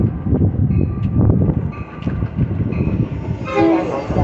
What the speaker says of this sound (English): train number 2018 to Chicago Union Station is now arriving